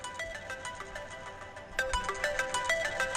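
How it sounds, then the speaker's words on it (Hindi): An incoming call sets off a mobile phone ringtone: a quiet electronic melody of short bright beeps that pauses briefly, then repeats a little louder with no one speaking. "खसखसे का फोन। उठाओ उठाओ।"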